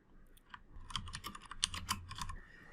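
Rapid keystrokes clatter on a computer keyboard as a document title is typed in a word processor, a close, quiet, busy run of clicks with no talking.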